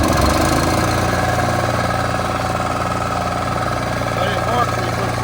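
A Honda engine runs after a dose of starting fluid, giving a steady, loud mechanical drone with a faint knock throughout, and indistinct voices mixed underneath.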